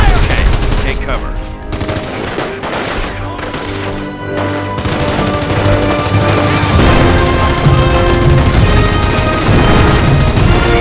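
Rifle squad gunfire in the Company of Heroes strategy game, dense overlapping rifle and machine-gun bursts rattling continuously and loudly, mixed with game music and combat noise.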